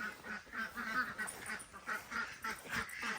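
A flock of homestead ducks in Canada keeps up a steady run of nasal quacks as they are herded out. The calls overlap and come in quick bursts at moderate volume, close by, with no voices over them.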